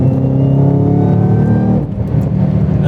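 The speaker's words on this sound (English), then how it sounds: "That supercharger whine sounds pretty cool." Ford Mustang GT500 driving under power, a steady loud engine drone with a thin high supercharger whine riding over it, easing briefly near the end before resuming.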